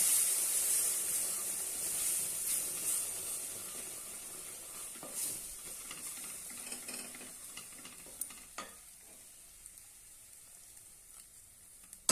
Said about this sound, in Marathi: आता यामध्ये दूध घालूया मी दूध गरम करून घेतलेलं आहे तेच घालूया थोडं थोडं घालूया